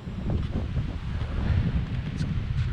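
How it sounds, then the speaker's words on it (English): Wind gusts buffet the microphone on the Cheviot hills, a steady low rushing roar with faint rustling, no voices. "A little bit windy like, but it's going to be windier up the top there"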